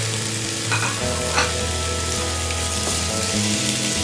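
Chicken breast sizzles and spits steadily in a hot frying pan, a dense continuous frying hiss with occasional sharper crackles and stirring scrapes, close and alone without talk.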